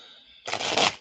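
A single brisk riffle of tarot cards, close and crisp, lasting about half a second after a faint quiet start.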